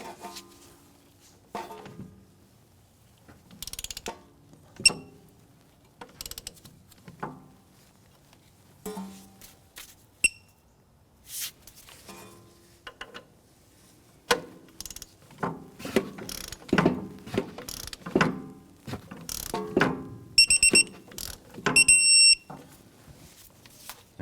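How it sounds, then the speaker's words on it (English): Torque wrench tightening a clevis bolt on an Acura TL front suspension during a CV axle replacement, with intermittent mechanical clicks and ratcheting bursts, a few sharp beeps and scattered clanks, close and moderately loud. "I'm going to torque that clevis bolt to 32 foot-pounds."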